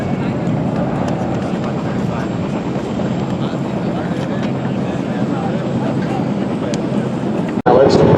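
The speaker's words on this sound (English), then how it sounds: "The KC135 now taxiing out onto the runway." A KC-135 military cargo plane taxiing onto a runway, a steady, broad engine roar held at a constant level throughout, with a narrator speaking over it.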